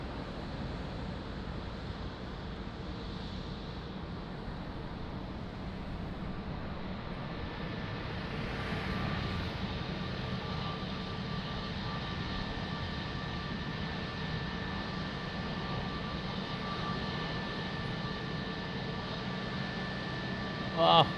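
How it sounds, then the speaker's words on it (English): Etihad Boeing 787-9 Dreamliner at Lisbon Airport, a steady distant engine roar with a faint whine holding for twenty seconds under wind noise, no clear pass-by peak. "Etihad. (787-9), beautiful Dreamliner."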